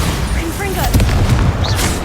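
A Bombarda explosion spell cast in Hogwarts Legacy lands as a deep boom with a sharp blast and rumbling debris, loud and close amid busy battle noise, with brief voices in the mix.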